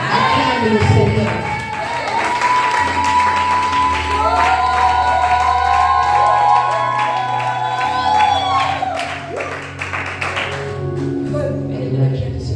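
Church congregation cheering and acclaiming loudly, a dense crowd roar with shouts and sustained musical tones running throughout.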